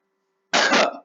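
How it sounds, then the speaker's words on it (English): One short, close cough, loud and isolated against silence. "I'm always coughing when doing this"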